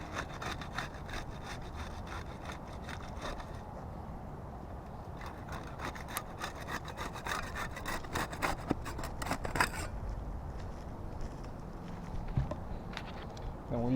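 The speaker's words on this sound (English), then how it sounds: "we'll get started with the putty knife. We'll use that to unseal the two top shingles there." A putty knife works under asphalt roof shingles to break their seal, giving close, continuous rasping and scraping with irregular gritty strokes throughout.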